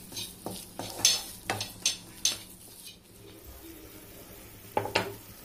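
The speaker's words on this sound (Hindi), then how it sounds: "अच्छे से इसको मिक्स कर देना।" A spoon stirs paneer bhurji in a pan, making a series of distinct scraping clinks in quick succession, then a pause before two more near the end, with a soft sizzle underneath.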